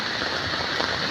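Heavy rain pours steadily on a street in Malaysia, a dense, even hiss of drops with no break, close and loud.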